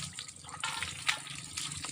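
Water poured over someone during a bath, splashing and sloshing in a few uneven bursts with a sharp splash near the middle, close and moderately loud.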